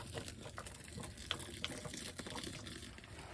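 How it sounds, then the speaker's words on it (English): Boiling water from a full kettle pours into a seed-sowing mix with a steady, gushing splash, moderately quiet and continuous with no talking. "So I've got boiling water to start with to get it going."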